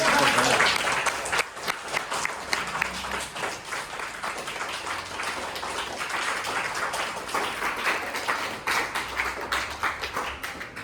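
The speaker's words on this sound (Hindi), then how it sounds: "तो बच्चों एक बार तालियों के साथ दोबारा" Children applaud together at an Engineers Day celebration, a sustained patter of many small hands clapping that holds steady for about ten seconds, moderately loud in a room.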